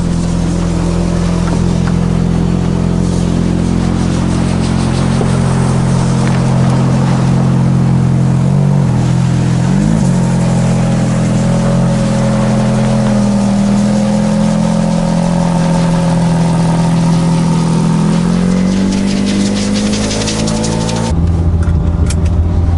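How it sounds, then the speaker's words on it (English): A rare manual gated-transmission Ferrari F430, a wrecked car bought at auction, drives with a steady, loud engine drone and shifting rev tones throughout. Near the end it drops to a lower idle-like note, with no talking. "The Ferrari for a quick spin before we start working on it."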